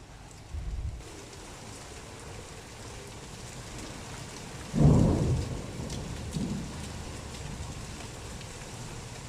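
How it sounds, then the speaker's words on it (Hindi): Heavy rain pours steadily at night in Pakistan with a cold wind, and a loud roll of thunder booms midway before fading back under the constant downpour. "ठंडी हवा और तेज़ बारिश हो रही है और बादल गरज रहे हैं।"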